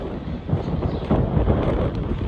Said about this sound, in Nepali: एकदम यस्तो दामी हावा चलेको